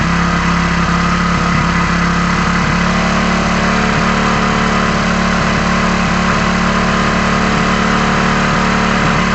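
A Hero HF Deluxe motorcycle engine runs at high RPM with a continuous, loud, close drone and a faint rhythmic pulse, alone without speech.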